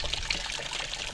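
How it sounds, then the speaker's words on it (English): Coolant drains from a car engine as a steady trickle of liquid that pours and splashes, moderately loud and continuous, with no voices. "So let's drain some more out, then we'll fill it up with water and flush, and see what really comes out once it gets hot."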